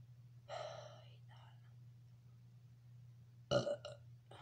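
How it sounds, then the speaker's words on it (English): A single loud burp erupts near the end after a quiet stretch, standing alone over a steady low hum, with some soft breathy vocal sounds earlier. "So yeah, need to burp."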